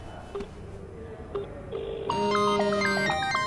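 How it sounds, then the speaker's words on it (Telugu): A phone ringtone starts abruptly and plays a bright repeating electronic melody, loud and close, after a few faint clicks and taps. "మళ్ళీ ఏంది ఈయన ఫోన్ చేస్తున్నాడు ఇక్కడే ఉండి?"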